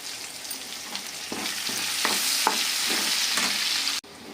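Tempering spices and crushed small onion fry in hot oil for an Andhra-style cucumber chutney, giving a loud, close, continuous sizzle with repeated stirring scrapes and a sudden cutoff near the end.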